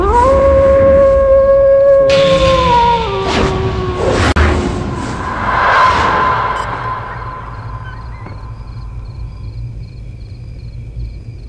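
Several dogs howl at midnight in a comedy film scene, long wavering howls overlapping loudly in the foreground, with a whooshing crash midway before the howls fade into quiet.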